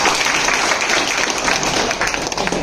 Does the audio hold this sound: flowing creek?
no